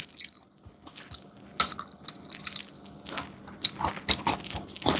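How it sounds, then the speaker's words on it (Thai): Large boiled peanuts, crisp rather than soft, being bitten and chewed up close: repeated sharp crunches and cracks in an uneven rhythm, with no talking. "เม็ดมันก็กรอบ ต้มกำลังดีใครชอบกินเปื่อยๆ ต้องไปต้มเพิ่มนะ แต่กรอบแบบนี้อร่อย"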